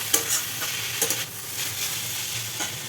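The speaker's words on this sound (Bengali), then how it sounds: "আর এইদিকে এই যে বাঁধাকপিটা ভাজছি এখন" Cabbage frying in a pan for a home-cooked lunch, with a steady low sizzle and several sharp stirring scrapes and clinks of the spatula close by.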